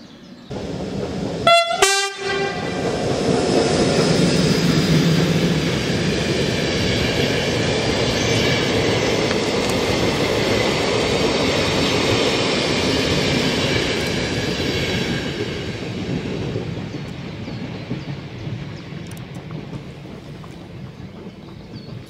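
A train on the Semmering mountain railway near Breitenstein station sounds a short horn burst and then rumbles past loudly for a long stretch, with the roar slowly fading toward the end.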